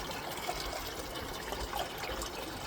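Water running steadily down a gold sluice box on a Scottish prospecting site, a continuous broadband wash and trickle, close and even throughout with no talk.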